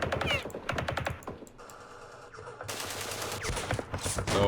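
Rapid volleys of small-arms and machine-gun fire crackle through a night firefight in the Vietnam wargame Campaign Series Vietnam, dense bursts fading briefly before another loud barrage erupts.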